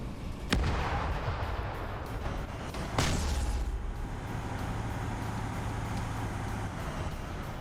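Heavy tank cannon fire in a Warhammer 40K battle: two sharp booming shots about two and a half seconds apart, each followed by a rumbling tail over a steady engine-like drone.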